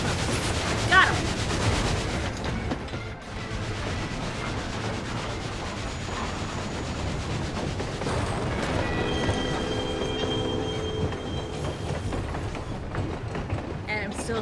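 Rumbling, grinding train noise from the video game Final Fantasy XIV Stormblood, with a rolling rail-car roar and scraping, later joined by sustained metallic tones, mixed with game sounds throughout.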